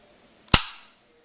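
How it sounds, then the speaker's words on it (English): A Smith & Wesson 1911 airsoft pistol fires with no BBs loaded, giving a single sharp, loud snap close by that fades quickly into silence. "Let me shoot this right now with no BBs."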